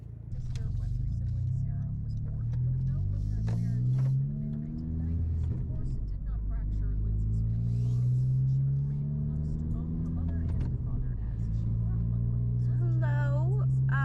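A 2018 Honda Civic Si driving, its low engine drone and road rumble steady and close throughout, with smooth gear changes marked by rising and falling pitch and a voice speaking over it in places.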